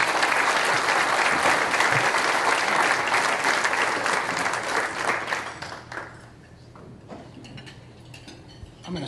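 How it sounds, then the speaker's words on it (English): Luncheon audience claps warmly for a visiting congresswoman, dense sustained applause for about five seconds that thins out into scattered claps and quiet room tone. "Let's give her a round of applause for being here with us."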